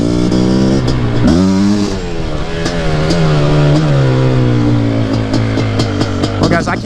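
A quad ATV engine revs hard during a test ride, loud and close, its pitch climbing and falling through a sustained, throaty drone with a sharp surge early on.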